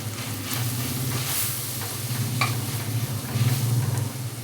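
Tomato with chilli powder, sambar powder, salt and turmeric sautés in a pan, giving a steady close sizzle with soft stirring scrapes throughout.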